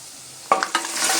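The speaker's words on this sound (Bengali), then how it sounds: "এবার বেশ কিছুক্ষণ ভালো করে নেড়ে চেড়ে মাটন পায়াগুলো আমি ভেজে নেব" Mutton trotters tossed into a pan of browned onions, a sudden burst of close frying hiss after a quiet moment, followed by a second stirring scrape and continued sizzle.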